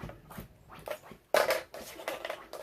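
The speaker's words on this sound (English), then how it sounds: "my dog likes to scratch on my chair" A dog scratches at a household chair, making a string of irregular, scratchy bursts close by. One louder scrape stands out in the middle, with no speech alongside.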